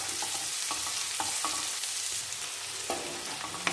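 Shallots, curry leaves and green chillies frying in a pan for a Kerala-style sardine curry: a dense, close sizzle with a few light spoon scrapes, no voices.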